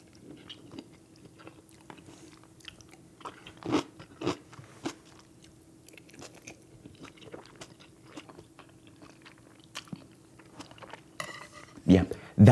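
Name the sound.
eating Korean breakfast with kimchi, chewing and crunching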